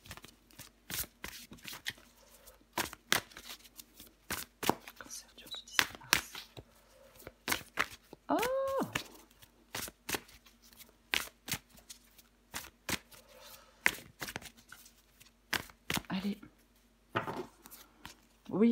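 Tarot cards being shuffled by hand in quick, crisp bursts of riffling and flicking, close and moderately loud, with short pauses between runs and a brief chirp-like squeak midway.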